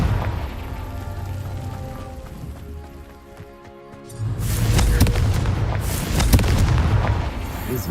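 Repeated Confringo fire-spell blasts from a Harry Potter video game, loud booming bursts with crackling debris, the heaviest run in the latter half after a brief quieter dip, with game music and ambience underneath.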